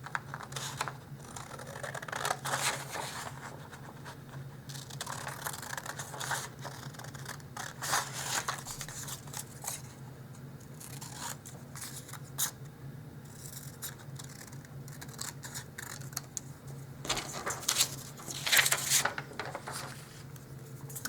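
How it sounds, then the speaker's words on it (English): Small scissors snipping out miniature dollhouse sign pieces, with repeated crisp cuts and light paper rustling up close and steady pauses between bursts. "Now, I'm going to cut these out."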